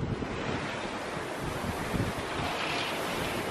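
Strong wind buffets the microphone over rolling surf and sea at the pier in St Ives, Cornwall, a dense, steady roar with low gusty rumbles and no talk.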